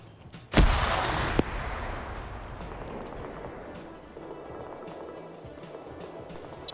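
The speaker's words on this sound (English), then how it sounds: "Got some fire going back and forth." Gunfire trades back and forth during a military PvP video game match: one sharp, heavy shot is followed by a second crack, then a long fading rumble with scattered distant reports.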